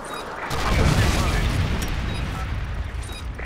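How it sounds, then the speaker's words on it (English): A Predator missile strike in a fast-paced Call of Duty style shooter: a heavy, rumbling explosion swells in and then rolls on as a long, loud roar with crackling debris, under game voice callouts. "Friendly Predator missile inbound"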